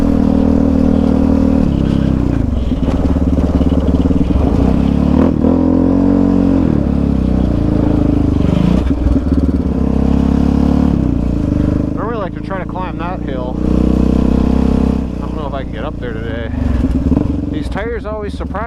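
A Yamaha Raptor 700 ATV ridden on slick winter ground, its engine droning loud and close with rising revs and brief throttle swells, while wind buffets and a voice talks over it.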